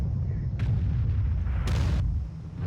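A Lorr 155 51 artillery piece fires in a tank video game, producing a deep, heavy boom with a low rumbling tail and a brief hissing burst partway through.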